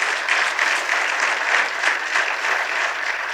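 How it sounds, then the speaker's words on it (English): A large audience at a presentation claps in a continuous, even round of applause, loud and dense from start to finish with no talking over it. "would you all help me by giving a round of applause to Dominion?"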